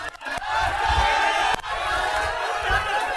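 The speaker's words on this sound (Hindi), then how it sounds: "तुम लोग क्यों चिल्ला रहा है" A classroom full of students shouting together, a loud continuous crowd roar of many young voices with a couple of sharp breaks, filling the room at close range.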